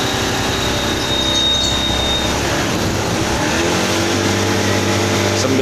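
A Honda Beat ESP scooter with a sputtering fault and a faulty engine temperature sensor revs steadily up close, its engine drone loud and continuous with a slight rise and dip in pitch.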